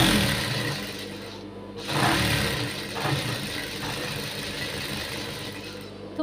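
Sewing machine stitching the lining of a blouse, a steady mechanical whir running throughout, with a brief louder burst partway through, close and continuous with no talking.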